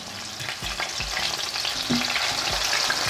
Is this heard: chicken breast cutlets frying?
yes